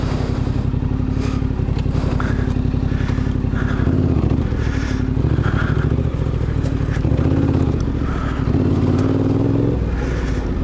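Yamaha T7 adventure motorcycle on tight single track, its engine loud and close throughout, with steady throttle, a few revving surges and some clattering from the ride.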